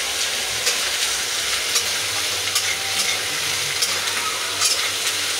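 Food being stirred and fried in a pan with turmeric, salt, chili powder and poppy seed paste gives a steady close sizzle, with occasional scraping clicks of a utensil.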